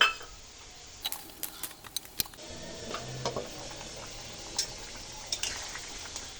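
Utensil scraping and clinking through a simmering catfish curry with green peas and a bay leaf, several sharp taps and stirs over a faint bubbling bed, close and fairly quiet.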